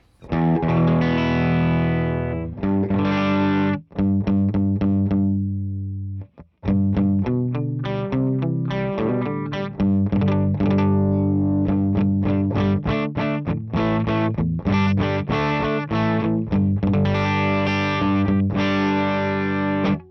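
A distorted electric guitar on the back humbucker pickup plays chords and riffs through an amplifier cabinet recorded with an AEA R84 ribbon mic, thick and warm, with a brief pause partway through before continuing.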